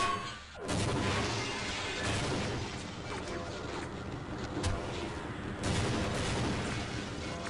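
Gunfire in the game Half-Life MMod, with a rapid series of loud, close sharp shots and booming blasts piling up over several seconds. A brief pause comes near the start, and the action stays dense throughout.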